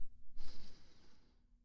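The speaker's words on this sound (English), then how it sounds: "So I'll demonstrate what an Ujjayi breath sounds like." A single close, soft Ujjayi breath, exhaled through a slightly constricted throat, gives a breathy hiss that rises quickly and then fades over about a second.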